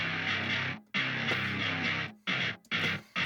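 A wide stereo bass guitar track plays solo in sustained, thick-toned phrases broken by short silences, close and loud, with no voices.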